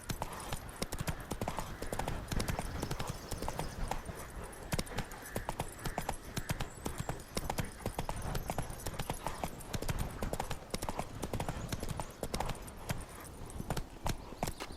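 Roach, the horse in the video game The Witcher 3: Wild Hunt, gallops in a steady, fast clip-clop of hooves that runs the whole way through, loud and close, with no talking.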